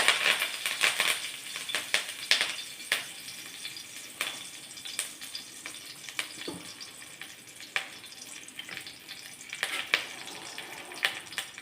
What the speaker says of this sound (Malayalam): കടുക് പൊട്ടിയതിന് ശേഷം കറിവേപ്പില ഇട്ട് കൊടുക്കാം.